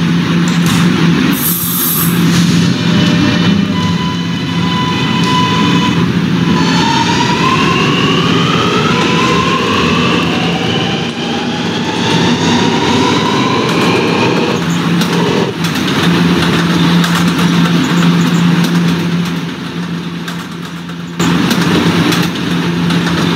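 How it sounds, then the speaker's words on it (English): A subway R train departs and runs on the N line, its loud, continuous rumble and rising motor whine filling the ride, with wheel and track noise throughout. "This is a West Batop bound R train via the N line."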